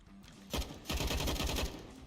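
AUG rifle gunfire in the video game CS:GO sounds as rapid bursts of shots, one short burst and then a longer rattling string, heard close and clear.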